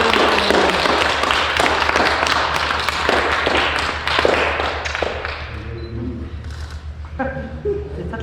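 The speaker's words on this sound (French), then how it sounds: "Là, on peut l'applaudir fort." Applause from the congregation at baby Nathan's baptism: a dense, steady patter of many hands clapping for about five seconds, then thinning out as voices carry on beneath.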